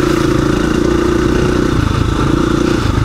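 A KTM 690 Rally Raid dirt bike rides off-road with its engine droning loudly and steadily, close up, with rough pulsing texture throughout.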